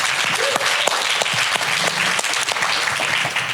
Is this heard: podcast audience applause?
yes